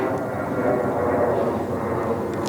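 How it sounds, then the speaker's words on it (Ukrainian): A fixed-wing airplane flies high overhead above the clouds over a Finnish forest, a steady, distant broadband engine drone that holds level throughout with no clear rise or fade. "Літаки літають десь високо-високо в небі."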